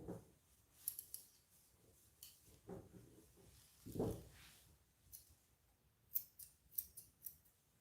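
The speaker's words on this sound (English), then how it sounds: "once I get the scissors out, I do the haircut" Grooming scissors snip through a dog's hair in quiet, close, irregular clicks and short bursts of cutting, spaced with brief pauses and no talk.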